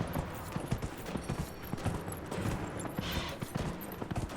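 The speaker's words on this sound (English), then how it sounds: "I'm racing a horse right now" A horse gallops in the video game Dragon Age: Inquisition, its quick, rhythmic hoofbeats drumming steadily at a moderate, fairly soft level.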